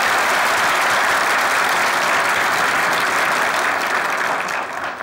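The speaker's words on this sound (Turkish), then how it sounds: "Sadece erkeklerden çok güçlü bir alkış alabilir miyim böyle?" Strong, dense applause from the men in a theatre audience fills the space steadily and loudly, a continuous wash of clapping that eases slightly in the final moment.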